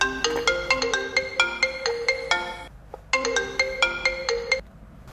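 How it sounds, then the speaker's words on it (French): A mobile phone rings with an incoming call, a bright melodic ringtone playing two repeated phrases of quick chiming notes, loud and close with a brief pause between them. "qui c'est qui m'appelle encore?"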